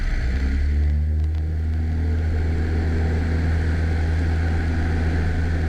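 A small airplane's piston engine roars steadily at full power during a touch-and-go takeoff, a loud continuous drone with strong low harmonic tones and no voices, rising slightly in pitch at the start.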